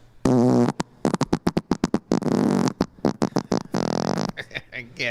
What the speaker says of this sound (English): I can't believe that. Fart, dude.